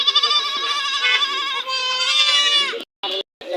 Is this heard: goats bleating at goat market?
yes